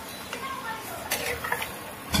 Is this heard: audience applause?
no